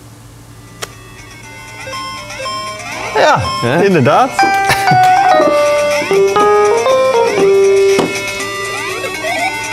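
Melody from a well-known Mario video game built on the Neapolitan scale plays as bright, tuned electronic notes, with a short spoken reply near the start before the tune fills out loudly over the remaining seconds.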